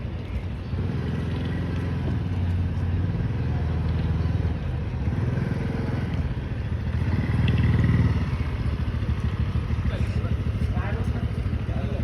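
A scooter carrying two riders hums steadily with a continuous engine drone and road rumble throughout, with a voice talking faintly over it.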